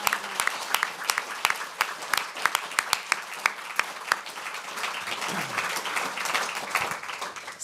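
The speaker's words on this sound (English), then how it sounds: "Can we give them a big round of applause?" An audience applauding after an on-stage conversation, dense clapping with distinct individual claps standing out, fairly close and sustained for several seconds.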